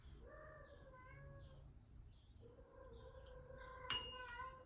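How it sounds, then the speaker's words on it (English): A cat in heat meowing indoors, drawn-out plaintive yowls repeated several times, faint and somewhat distant in a quiet room. "My roommate's cat is in heat,"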